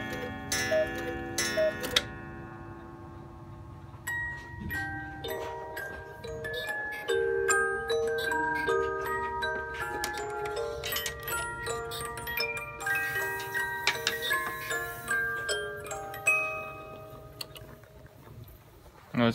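An 8-day cuckoo clock with music ticks steadily, then its music box plays a bright, plucked tinkling melody over the ticking for most of the stretch, close and clear.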